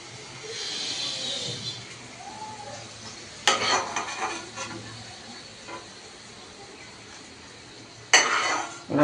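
Papad frying in a pan of oil, a soft steady sizzle punctuated by two sharp bursts of crackling and clattering as pieces go in or are turned, with a brief murmur of voices.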